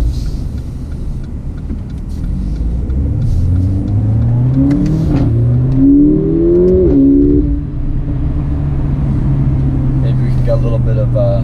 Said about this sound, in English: A little bit of under the tunnel, under the overpass, exhaust sound.